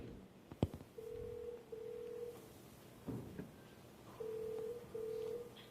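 A telephone line rings back in a quiet room, with short paired tone bursts repeating at even intervals and a few faint clicks and knocks between them.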